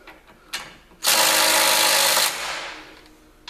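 A ratchet tightening bolts on a rock slider: a short click, then about a second of loud rapid ratcheting that trails off into quieter clicks, close up with no speech.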